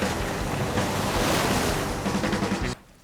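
Ocean surf rolls and crashes in a loud, continuous wash of broadband noise with wind buffeting the microphone, then cuts away abruptly near the end.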